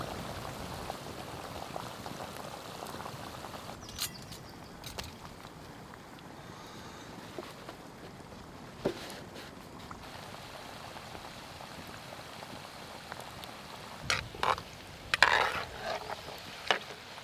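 Chips deep frying in oil over a campfire outdoors: a quiet, continuous bubbling sizzle with scattered small pops and crackles, steady throughout and fairly faint.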